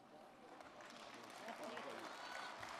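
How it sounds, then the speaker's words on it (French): An audience at a union meeting in Marseille claps steadily for nearly three seconds, a dense, fairly quiet wash of applause filling the room. "N'applaudissez pas trop longtemps parce qu'on va me le décompter"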